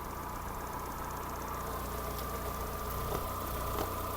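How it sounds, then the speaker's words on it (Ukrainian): A Volkswagen Golf 4 engine idles steadily, a faint, even low hum with a fine rhythmic pulse and light mechanical ticking throughout, with no talk over it. "Робота двигуна."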